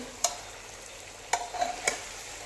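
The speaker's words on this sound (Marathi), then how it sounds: "मसाले खाली लागू नयेत म्हणून हलवत राहायचं आहे" Chicken masala for a Marathi chicken curry steams over a medium flame, with a soft sizzle and a few sharp spoon scrapes from stirring.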